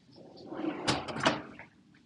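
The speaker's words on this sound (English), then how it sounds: "Drawers." Kitchen drawers opened and shut during a cleaning inspection, a few quick close-up wooden slides and knocks bunched together in about a second.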